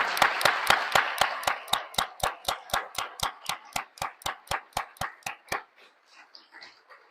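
An audience at the end of a religious talk claps in steady unison, about twenty sharp even beats, before the clapping breaks off and fades.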